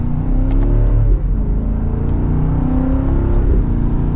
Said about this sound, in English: I like hearing that exhaust note for this luxury brand SUV.